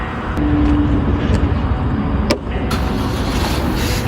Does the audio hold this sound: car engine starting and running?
yes